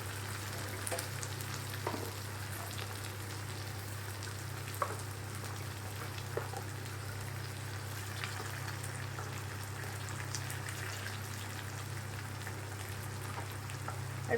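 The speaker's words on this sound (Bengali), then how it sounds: "প্রথমে পেঁয়াজটাকে একটু হালকা ভেজে নিতে হবে আমাকে" Medium-sized chopped onions fry in a pan with a constant crackling sizzle, close and steady, punctuated by occasional light stirring taps, with a low hum underneath.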